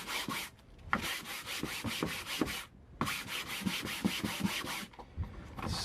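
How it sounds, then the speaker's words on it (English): Sandpaper of 220 grit stapled to a 2x4 wood block rubs across a canvas board in quick back-and-forth strokes, two steady bursts of close, raspy scraping separated by a brief pause. "I'm going to use, this is 220 grit sandpaper, which I've just stapled to a block 2x4 remnant."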